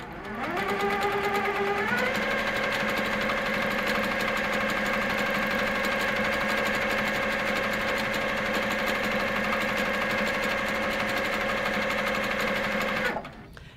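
A domestic sewing machine running steadily for free-motion stipple quilting, a continuous close motor whine that shifts slightly in pitch in the first two seconds and then holds even until it stops at the end.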